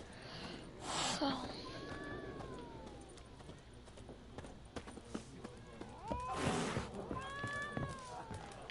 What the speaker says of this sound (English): Ooh, a cat?